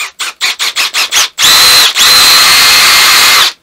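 A power drill bores a hole at a mountain-top cabin, first in about seven short bursts, then in two longer continuous whining runs, loud and close.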